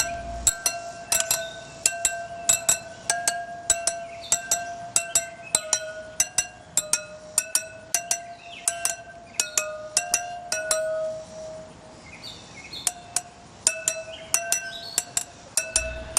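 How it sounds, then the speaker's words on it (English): Metal spokes on a BMW R motorcycle wheel are tapped one after another, giving a series of bright, ringing clinks at a steady rhythm, close and clear with no talking; one dead spoke is among them. "That's what a dead spoke sounds like,"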